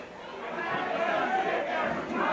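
A wrestling arena crowd in St. Louis yells and chatters in a steady, loud roar for a couple of seconds, with no clear single voice above it.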